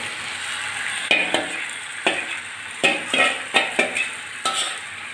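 Marinated chicken fries with half-browned onions in a pan, a constant close sizzle punctuated by a run of quick scraping stirs that come in uneven clusters, with no speech.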